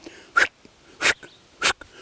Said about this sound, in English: I'm getting some barks in there first.